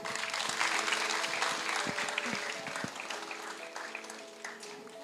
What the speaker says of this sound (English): Let's give a round of applause of graduates of